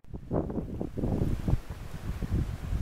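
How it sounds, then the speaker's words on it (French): Gusty wind at a paragliding launch site buffets the microphone in continuous low rumbling gusts, with no one talking. "Le vent tourne tout le temps."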